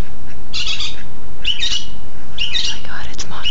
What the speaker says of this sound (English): Right there is the fucking bird